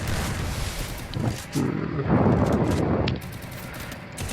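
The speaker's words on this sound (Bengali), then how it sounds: "ভাই গুলি মাথার কাছ দিয়ে বের হয়ে যায়" Bursts of rapid gunfire crackle through a dense, noisy mix, with a heavier sustained volley in the middle before easing back to scattered shots.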